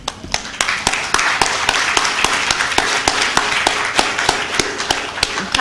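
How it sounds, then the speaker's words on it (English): A room full of people claps for a mother, with steady, fairly close applause and sharp individual claps standing out in an irregular rhythm throughout. "I'm clapping for my mother."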